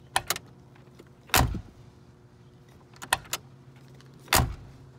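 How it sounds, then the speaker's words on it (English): Doors on a Mercedes-AMG G65 G-Wagon shut with sharp, solid clicks, two loud distinct slams standing out among a few lighter latch clicks and small handling knocks in a quiet setting. "the sound the doors make when they close. It's this old school click you just don't get in modern cars"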